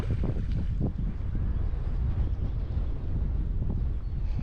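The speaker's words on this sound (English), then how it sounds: "Sorry about the wind." Gale-force wind buffets the microphone beside a stillwater trout lake in the UK, a loud continuous low roar with gusting surges and no speech.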